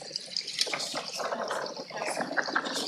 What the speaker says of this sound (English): But you can hear the water running down.